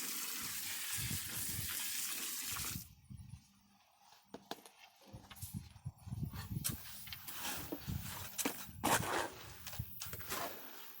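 Water gushes into a batch of Sakrete concrete mix in a steady splashing rush for a few seconds, followed by intermittent scraping and sloshing bursts as the mix is worked.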